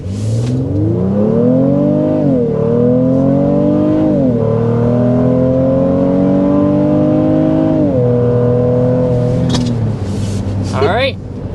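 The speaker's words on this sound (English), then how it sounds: "we want to go ahead and start with a hard acceleration." A 2024 Honda Pilot Elite accelerates hard to 60 mph, a loud engine roar climbing in pitch through three upshifts with brief dips between, easing off at the end as someone starts talking.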